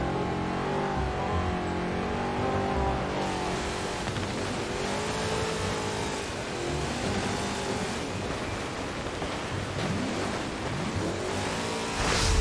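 In the Forza Horizon 4 video game, a 1969 Lamborghini with a high-revving engine and four-speed gearbox screams on snow. It revs up and down repeatedly in loud, continuous sweeps, with brief tire squeal and no voices.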